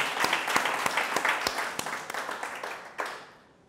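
A panel audience at the CSL Hamptons 2015 event gives a round of applause for a guest, with dense, sustained clapping and a few sharp individual claps that gradually thin out and fade near the end.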